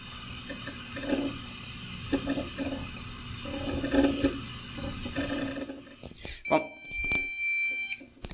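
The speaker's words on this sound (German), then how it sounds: "Ihr habt erstmal das Piepsen gehört und ihr habt das Rattern der Festplatte gehört." A QNAP NAS starting up with new HGST Deskstar NAS hard drives emits electronic beeps and a mechanical rattling of the spinning drive, close to the microphone, with a person talking earlier in the clip.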